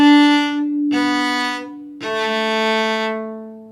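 Cello plays a line of Song of the Wind from Suzuki Book 1 in three bowed notes, starting on a down bow. The tones are rich and sustained, close and clear with no talking.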